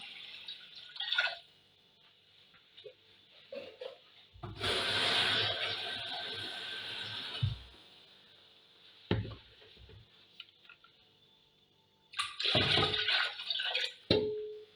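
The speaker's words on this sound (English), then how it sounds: "Pour in your broth into your pot, add more water, if possible warm water." Water poured into a pot of broth for okra soup in two separate splashing pours, the first longer, with quieter clinks and drips in between.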